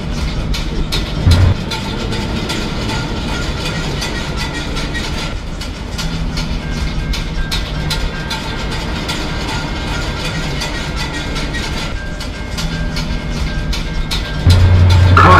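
An Amtrak train bound for Boston South Station runs with a steady, loud, continuous rumble and rail noise, a heavier low surge near the end, and no voices.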